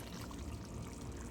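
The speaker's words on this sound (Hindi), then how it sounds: "इसमें पानी मैंने डाल दिए" Water poured into a cooking pot of yogurt BBQ beef, a soft, steady splashing and trickling that runs without pause, faint and close.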